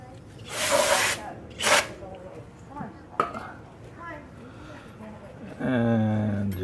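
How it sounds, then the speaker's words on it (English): Two bursts of aerosol spray aimed at the rear brake parts of a Kia Soul, each a loud broadband hiss lasting about half a second, followed by tool clinks and someone talking. "And then hit it with some spray up there as well."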